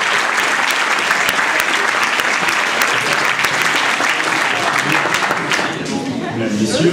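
Crowd at a political gathering applauding a député, dense loud continuous clapping filling the room for several seconds, easing slightly near the end.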